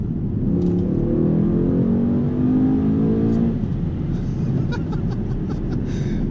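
A 600-horsepower Mercedes accelerates hard while merging onto a highway, its engine note climbing steadily for about three seconds before settling into a loud, steady cruise, with a few light clicks and faint laughter-like sounds over it.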